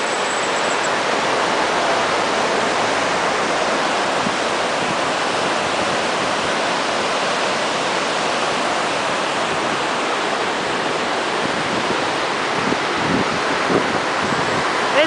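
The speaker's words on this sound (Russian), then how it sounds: "На большой глубине прорезает его река Феогдон." The Fiagdon River rushes through a deep canyon in the Caucasus Mountains, a broad, constant roar of flowing water that stays loud and unchanging for the full length, with light wind buffeting the microphone.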